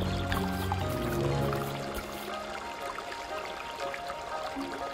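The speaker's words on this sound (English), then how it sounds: "Water is flowing heavily." Heavy rushing water in a cartoon farm animation, a loud pouring gush at first that thins into a softer trickling flow, with no talking over it.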